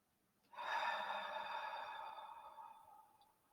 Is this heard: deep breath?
yes